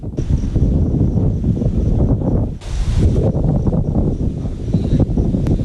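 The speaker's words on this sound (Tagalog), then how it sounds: "kasabay ang malakas na ihip ng hangin" Strong storm wind from Typhoon Dindo buffets the microphone near the sea before dawn, a loud continuous roar with gusty rustling and a brief harsh surge midway.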